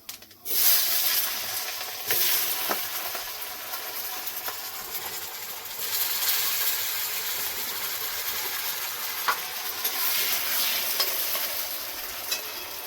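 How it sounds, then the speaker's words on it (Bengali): Potatoes frying in oil left over from frying fish roe, a steady close sizzle and hiss with occasional stirring scrapes and pops throughout. "এবার ডিম ভাজা তেলের মধ্যে আলুটা ভেজে নেব।"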